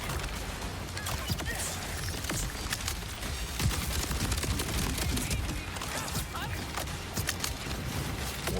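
Gunfire while fighting enemies in the Borderlands 4 video game, a dense, continuous clatter of shots and impacts with scattered sharp bursts running throughout at steady loudness.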